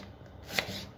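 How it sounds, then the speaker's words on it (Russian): A knife chops an onion on a cutting board for sauce, with one faint, sharp cut standing out in a short, quiet moment. "Ребята, покажу, как я нарезаю лук."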